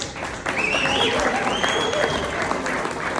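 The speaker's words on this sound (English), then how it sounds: "Give them a round of applause." A crowd at a political speaking event applauds in a sustained, dense wash, with whistles and cheering voices ringing out over the clapping.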